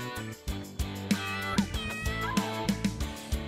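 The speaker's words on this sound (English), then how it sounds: "This is the cat." A cat meows repeatedly in a lively, rhythmic series of short cries, clear and close, set over a bouncy children's song backing.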